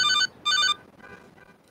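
A cell phone rings in the GTA: Liberty City Stories video game, two short bright electronic ring bursts followed by fainter tones trailing off, alone with no talk.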